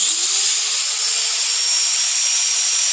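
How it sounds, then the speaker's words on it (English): Die grinder or cutoff wheel cutting a Mustang SN95 AODE shifter, a loud, steady, high-pitched whine close up that holds constant throughout. "You're going to need a die grind or a cutoff wheel."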